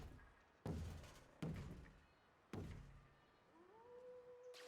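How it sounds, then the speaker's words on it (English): Wolves in the Planet Coaster game let out a rising, drawn-out howl near the end, preceded by three heavy, booming thuds that each fade slowly, all fairly quiet. "I hear howling wolves."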